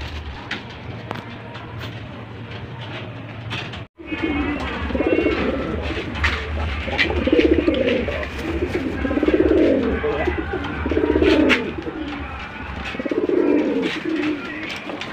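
Pigeons for sale coo in a series of soft, throaty, rolling calls close by, with a steady low background hum and a brief dropout early on.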